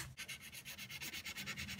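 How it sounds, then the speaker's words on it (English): Sandpaper scrubs back and forth over cured epoxy resin, a close rhythmic rasping with about a dozen quick even strokes, each swelling and fading in turn. "I'm going to sand away some of the resin here"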